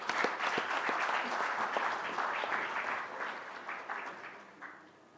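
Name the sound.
audience applause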